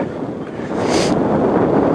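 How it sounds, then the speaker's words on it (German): Strong gusty wind roars and buffets the microphone at the Schmachter See in Binz on Rügen, swelling in a gust partway through over a low rumbling outdoor background. "Wir haben teilweise heute ganz schöne Windböen hier."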